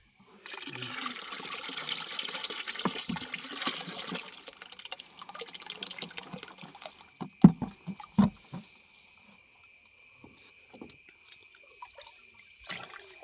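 Strained lime solution is poured into a 200 litre drum of water, making a steady splashing pour for about four seconds, then thinning to trickles and scattered drips.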